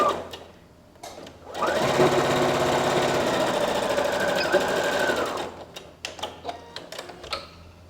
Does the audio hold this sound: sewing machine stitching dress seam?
yes